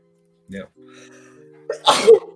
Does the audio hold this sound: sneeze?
yes